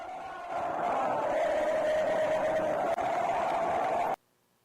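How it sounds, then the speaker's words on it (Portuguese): A packed Maracanã stadium fills with Fluminense fans cheering and chanting in a dense, continuous roar that stays steady and distant, then cuts off abruptly near the end. "Confira um pouquinho do calor da torcida"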